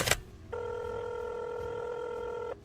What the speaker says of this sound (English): Then she reached over and grabbed the phone and called Ken.